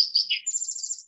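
A small songbird gives a brief high-pitched call: a few quick chirps sliding into a rapid, buzzy trill, clear and close against silence.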